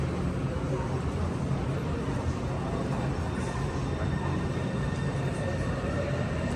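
A metro train rumbles steadily in a Taipei MRT Red Line station, a dense low roar filling the whole stretch, with voices mixed in beneath it.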